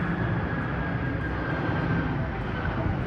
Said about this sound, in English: See more planes go by.